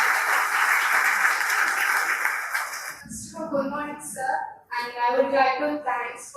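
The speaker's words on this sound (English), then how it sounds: "let's give a big round of applause" A conference audience on logistics in Kerala applauds in a dense, steady wash for about three seconds, then the clapping stops and a voice talks.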